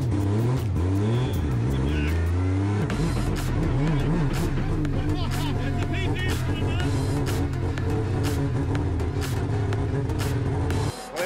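A loud race car accelerates hard on a circuit, engine climbing through gears in close, continuous roaring sweeps, with people talking over the noise.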